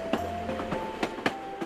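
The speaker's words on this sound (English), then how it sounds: "cities have their rhythms, like the click-clack of a train" A train clicks and clacks over rail joints in a brisk, uneven rhythm, with sharp metallic knocks standing out over a steady rolling hum and no voices.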